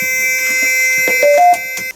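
A device stuck in check mode, a Wayfarer TGX200 unit being fitted, gives a couple of short, clear electronic beeps at two slightly different pitches over a steady background hum.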